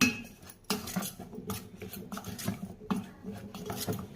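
A spoon scrapes and clinks against a bowl while salted ingredients are stirred and mixed, giving quiet, irregular rubbing and tapping strokes close by.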